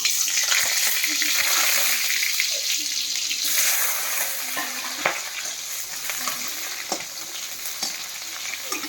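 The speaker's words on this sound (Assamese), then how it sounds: "এতিয়া পিঁয়াজটো মই ফ্ৰাই কৰি লওঁ তেল গৰমত" Onion frying in hot mustard oil in a home kitchen after potatoes, a steady loud sizzle filling the whole stretch with occasional crackles and small pops close by, no voices.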